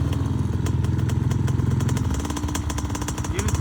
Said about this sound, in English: Give it some throttle, Wyatt.